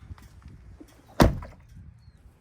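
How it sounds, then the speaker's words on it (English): Rear door of a Ford F150 with water trapped inside being shut: one soft, sharp thump with a brief wet slosh after it, heard alone against quiet surroundings. "Every time I close this back door, I hear water splashing around"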